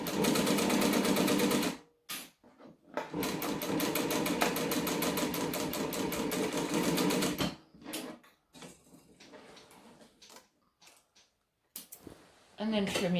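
Sewing machine stitching a bag lining, running in a long steady burst, then in shorter stop-start runs separated by pauses, with a voice talking during the quieter gaps.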